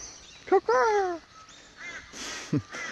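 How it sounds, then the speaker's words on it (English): Crows caw a few times outdoors in a park among gum trees in the morning, harsh calls close by, with quieter bird calls and faint background noise between them. "Listen to the birds."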